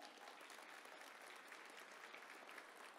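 An audience applauds steadily in a dense, continuous wash of clapping that stays even throughout, fairly faint and distant, with no voices over it.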